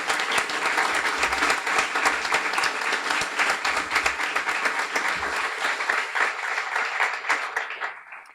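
Warm, sustained applause from a graduation audience at a guide dog school ceremony honoring event sponsors, full steady clapping for about eight seconds before it quickly tapers to quiet.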